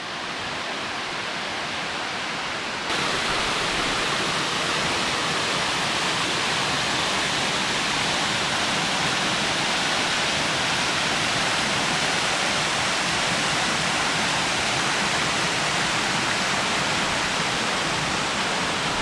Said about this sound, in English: We conquered the 7 waterfalls here.